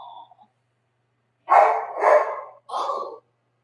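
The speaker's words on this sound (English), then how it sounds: "Could you guys hear the barking?" Dog barking outside: a faint yip first, then three loud, close barks in quick succession after a short pause.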